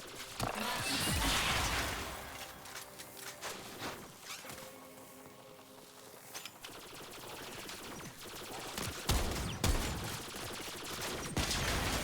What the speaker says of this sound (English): So there's turrets that shoot at me